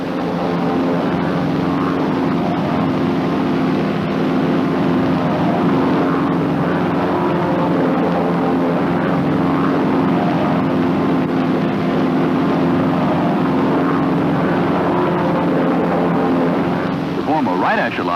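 North American T-6 Texan propeller aircraft flying in formation, a loud, constant droning engine roar with steady low hum and no letup, heard from within or very near the plane.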